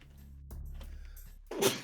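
A single sharp sneeze bursts out near the end, after a low hum and faint game sounds, sounding close and moderately loud.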